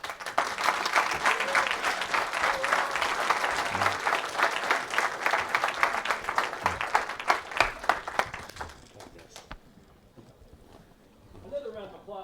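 An audience at a liberty forum applauds after a talk, with a dense wash of clapping that holds for about eight seconds and then thins out and fades, and a voice comes in near the end.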